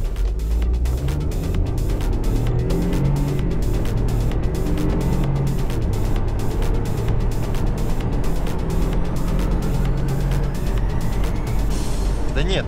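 A BMW 318i running on 100-octane petrol accelerates hard with manual-mode gear shifts near 5000 rpm, the engine rising in pitch through each gear amid steady road and wind roar, heard from inside the car.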